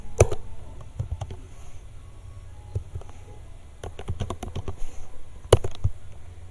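Keys on a computer keyboard, including Ctrl, are pressed in scattered sharp clicks, some single and some in quick bursts, close and fairly crisp over faint background hum.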